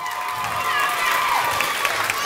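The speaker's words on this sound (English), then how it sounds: "give them everybody who's took part a big round of applause" A crowd cheers and applauds young dancers at an under-8s dance event, a steady wash of clapping and shouts with children's voices mixed in throughout.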